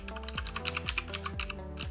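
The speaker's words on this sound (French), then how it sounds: "que je vous présente un peu mon nouveau clavier, donc mon clavier mécanique" Quick, steady typing on a Klim mechanical keyboard bought for 59 euros, a dense run of crisp close key clacks continuing unbroken with no voices.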